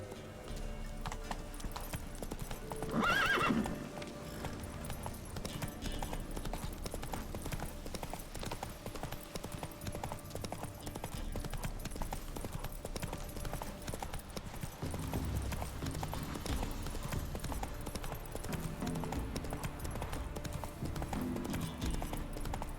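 Geralt's horse Roach gallops in The Witcher 3, a steady rapid clip-clop of hooves, close and continuous, with a brief whinny near the start.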